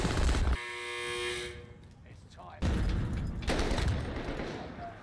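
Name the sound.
gunfire in Call of Duty Warzone video game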